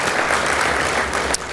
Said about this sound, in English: Give them both a round of applause.